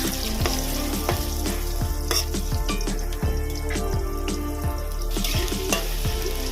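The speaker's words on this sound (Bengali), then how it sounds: "আমি দেবো ডুমো করে কেটে রাখা আলু এবার আলুটাও একটু ভেজে নেব" Diced potatoes sizzle in a pan, a dense, busy crackle broken by repeated knocks and scrapes of a utensil as they are tossed. A faint voice can be heard underneath.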